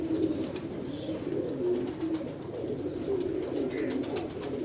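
Jaldar pigeons coo steadily in low, throaty rolling phrases, close and continuous throughout with no talking, a few faint chirps scattered above.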